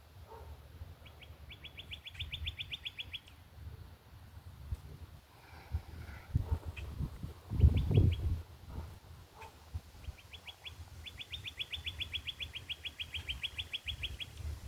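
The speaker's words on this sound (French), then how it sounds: "Les oiseaux qui ont chanté." Birds chirp in short bright trills, bursts repeating near and far, over low rumbling background noise with a louder thump in the middle.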